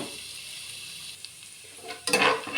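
Ground masala sizzles and fries in a pan for a fenugreek-leaf and black-eyed-bean pulao, a steady close hiss that bursts louder near the end as the paste hits the hot oil.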